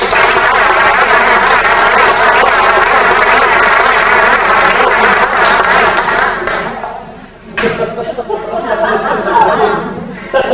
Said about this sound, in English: give a warm round of applause to welcome Dominic Toos, Dominic the Magician.